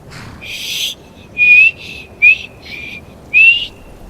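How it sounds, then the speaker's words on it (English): A person whistles short, bright, clear phrases close up: four separate bursts with brief pauses between them, and no speech. "Can I whistle?"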